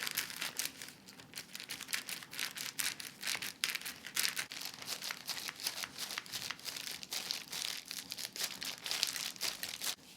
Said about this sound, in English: take your scissors and